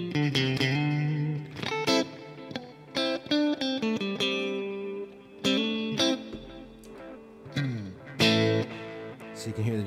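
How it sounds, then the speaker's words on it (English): Electric guitar through a Line 6 Helix delay patch, with a Minotaur distortion dirtying only the repeats; loud, rhythmic picked notes and chords ring out with gritty, echoing tails trailing behind each phrase, no talking. "So 250 and 500 has a Minotaur to add some distortion only to the tails of the delay."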